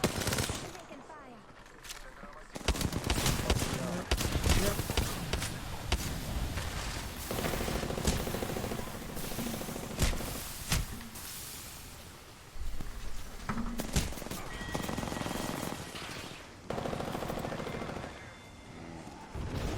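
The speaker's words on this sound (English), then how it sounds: "Taking fire." Bursts of automatic gunfire in a video game rattle in rapid volleys, some close and sharp, others farther off, with players talking over the shooting.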